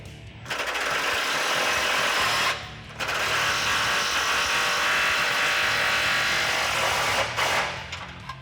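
A power tool drives the final skid plate bolt on a Jeep Wrangler JK during a M.O.R.E. oil and transmission skid plate install, a loud, close whirring burst, a short pause, then a second long burst that tapers off.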